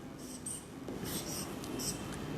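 Pen strokes writing "benzoic acid" by hand, soft scratchy rubbing in short bursts, faint and close with a steady low background hum.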